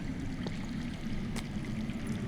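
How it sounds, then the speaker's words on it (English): Underground water flowing in a Game of Thrones video game, a steady, soft stream-like rushing and trickling that continues throughout at moderate distance. "I hear water. From underground."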